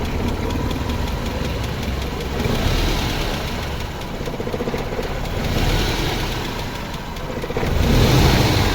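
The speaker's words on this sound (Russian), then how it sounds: "Немного холостого хода маловато." A Mercedes-Benz car engine idles with a low, slightly rough idle, running steadily up close with a faint ticking rattle and small swells in level, and no voices over it.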